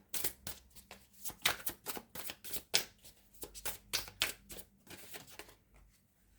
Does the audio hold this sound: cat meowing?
no